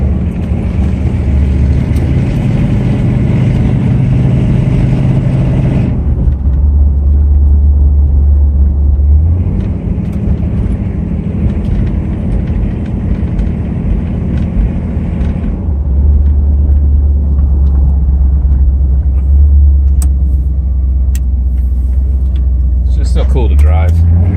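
A custom 1970s Chevy van on new tires cruises down the road, heard from inside the cabin. A loud, steady engine rumble and road noise shift through a few speed changes over about twenty-four seconds.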